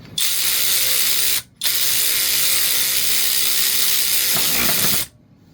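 SeeSii cordless power ratchet wrench tightening a bolt with stripped threads, a loud buzzing whir in two long bursts separated by a brief pause, close up, with no talk.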